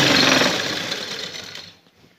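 Sewing machine running a single line of stitching along a shalwar belt, a steady close mechanical whir that fades out near the end.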